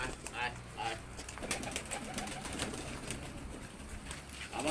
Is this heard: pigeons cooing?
yes